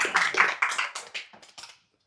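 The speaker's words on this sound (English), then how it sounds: "This is the time that you can clap for yourself." Workshop audience clapping for themselves during a self-appreciation moment, a short burst of scattered, uneven claps that thins out and stops after under two seconds.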